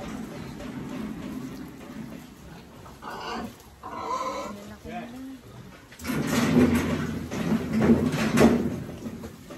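A heavy pig grunts and squeals amid shuffling and scraping as several people lift it, and the noise grows busier toward the end.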